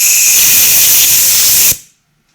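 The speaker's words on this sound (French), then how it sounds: "On va passer ensuite un petit coup de soufflette. Alors, pour nettoyer le filetage" A compressed-air blow gun blasts debris out of a freshly tapped thread on a mini excavator gearbox part, a loud, close, steady hiss lasting under two seconds before cutting off abruptly into silence.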